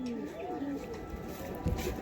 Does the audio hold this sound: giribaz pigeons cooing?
yes